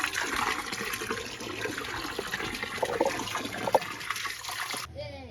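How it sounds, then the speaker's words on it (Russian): Steady running water streams from a tap with a constant splashing hiss, continuing for several seconds before stopping near the end. "Как вода нормально идет?"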